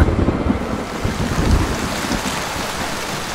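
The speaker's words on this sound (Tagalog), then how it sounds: "Kasabay noon ang pagbagsak naman ng ulan sa labanan hanggang sa mga ilang minuto pa." Rain pours down as a sound effect in a Filipino aswang horror audio drama, accompanying a battle scene: a dense, steady hiss and patter that fills the whole stretch without any talking.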